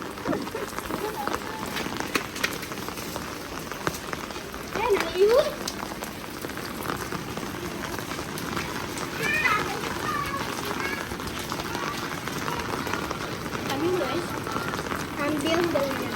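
Steady rain patters on the ground while small children play out in it, with scattered voices and brief calls rising over the continuous wash of falling water.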